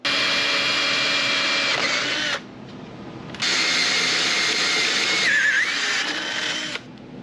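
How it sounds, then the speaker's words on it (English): An electric drill whines steadily while boring two 5/16-inch mounting holes for a sliding table attachment, two long runs separated by a short pause, close and loud, with a brief third start at the end. "I'll drill 2 5/16 holes"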